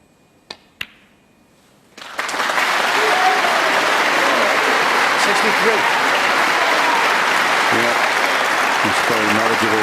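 Snooker crowd at the Barbican breaks into loud, sustained applause after a century break, starting abruptly after two sharp claps in near silence and continuing steadily to the end, with a commentator's voice faintly underneath.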